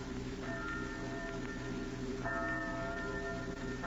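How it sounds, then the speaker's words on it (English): Distant church bells toll in a muffled, resonant ring, with a second stronger peal joining midway over a low steady hum. "Church bells. Why do they ring so late at night?"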